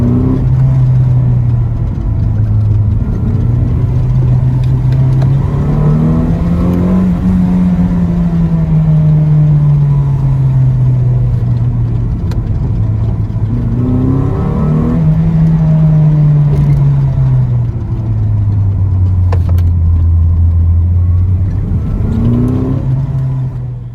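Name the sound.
Toyota MR2 car driving downhill, engine running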